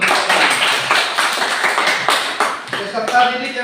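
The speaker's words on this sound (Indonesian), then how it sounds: "Tepuk tangan dulu untuk" A classroom full of students clapping at the teacher's request, a dense, steady patter of many hands at close range that thins slightly toward the end, with voices mixed in.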